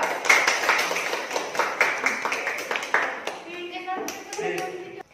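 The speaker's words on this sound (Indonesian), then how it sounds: "berikan aplaus untuk kelompok 3" A classroom gives group 3 a round of applause, with steady close clapping from a few people that thins out and gives way to brief voices and light knocks toward the end.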